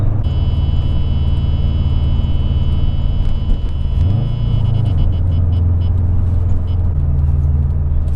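A Subaru WRX STI drives along with a loud, steady engine drone and road rumble, the pitch shifting briefly midway as the engine note changes, alone with no talking.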